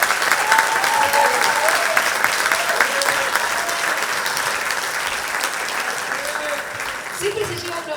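Ovation for the governor of Buenos Aires province at a Banco Provincia event, loud sustained clapping from a large audience, with scattered cheers and voices mixed in, easing slightly toward the end.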